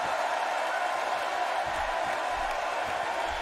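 Steady crowd roar from a WWE 2K18 wrestling arena, a continuous broadband wash of cheering that holds level throughout without clear peaks or individual voices.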